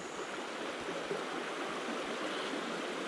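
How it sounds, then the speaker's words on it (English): Craig's Creek, a mountain creek, rushes steadily and close by as a continuous broadband wash of flowing water. There is no speech. "So this creek, this is Craig's Creek."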